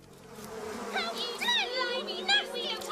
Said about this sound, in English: I do not like bumblebees. They are all over bristles.